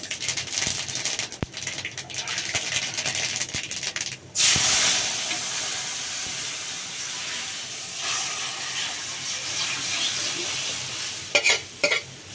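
Dal is tipped into hot oil for tempering and flares into a sudden loud sizzle, then settles into a steady hissing fry with scraping stirs and a few sharp clatters near the end.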